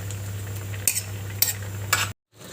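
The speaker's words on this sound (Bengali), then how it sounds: "তার জন্য দিদি একটু ঘেটে ঘেটে দিচ্ছে" Fish roe sour curry being stirred and mashed in a pan, with three distinct scraping strokes of a utensil over a steady low cooking hum, then an abrupt cut to silence.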